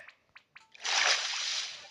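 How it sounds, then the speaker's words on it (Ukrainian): Animal drinking water in the Minecraft video game: a few soft taps, then a sustained, fairly quiet sloshing splash lasting about a second. "Сховаємося в тих кущах і будемо дивитися, як він прекрасно п'є ту воду."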